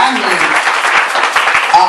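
Church congregation applauding, a dense, steady burst of clapping that fills the short moment, with voices mixed in.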